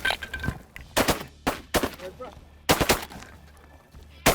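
Shotgun shots while duck hunting for pintails in a field, several loud sharp blasts fired in quick succession with short gaps between, close and booming, with people talking in between.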